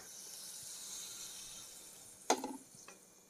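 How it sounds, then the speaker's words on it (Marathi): Tadka for dal palak, tempering spices dropped into hot oil, gives a low steady sizzle and then a sudden sharp crackling burst that quickly fades into quieter hissing. "आता आपण तडका देऊया."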